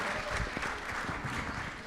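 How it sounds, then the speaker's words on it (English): An audience at a Black entrepreneurship conference at Sheridan College applauds, a dense, sustained clapping that fills the room for the whole moment. "Another round of applause."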